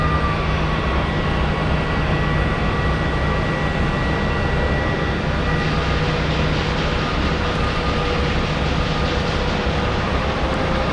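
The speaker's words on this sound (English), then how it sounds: "787 coming in" A Boeing 787 airliner comes in to land at Boston Logan airport, a steady, broad engine rumble holding evenly throughout with no voices.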